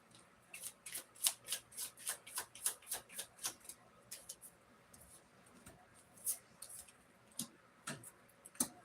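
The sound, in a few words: shuffling tarot cards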